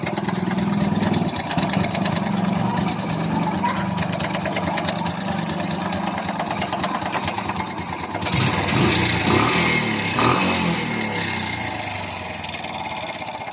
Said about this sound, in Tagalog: At pakinggan nyo kung anong tunog meron ang kanyang makina.